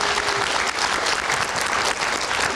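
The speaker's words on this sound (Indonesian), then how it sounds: "Oke, kita kasih tepuk tangan dulu dong" Dense studio audience applause during a televised election talk show, loud and continuous throughout with no break.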